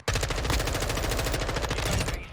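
Automatic weapon fire in the shooter game Warzone 2, a sustained, loud burst of rapid rhythmic shots lasting a couple of seconds with no pause.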